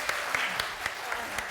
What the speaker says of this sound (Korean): 축하 박수 해주시기 바랍니다